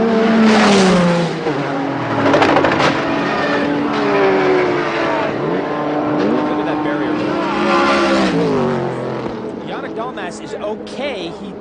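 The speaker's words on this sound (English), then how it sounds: "quick oil fire, and then the car lands and will hit the barrier" A race car at Petit Le Mans, Road Atlanta, 1998, screams past at high revs, its engine note rising and falling with shifts as it crashes and flies into the air, loud and close, with commentary talking over it.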